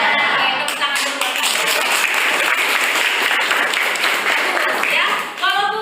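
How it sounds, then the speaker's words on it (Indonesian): Students in a classroom break into loud, dense clapping that runs steadily for several seconds before tapering off, with a few voices mixed in. "Tepuk tangan dulu."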